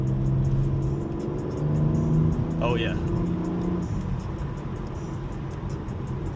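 From inside a BMW M4 G82 Competition near a quarry, the engine drones and climbs in pitch as the car accelerates, a steady close roar, with someone briefly speaking over it.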